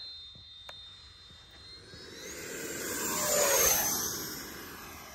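A Freewing 80mm L-39 RC jet makes a pass during a memorial flight, its ducted-fan whine sliding in pitch as it swells to a loud peak overhead and fades again, with no talking.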